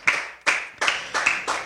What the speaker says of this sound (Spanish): Démosle un aplauso al autor de la palabra en esta hora.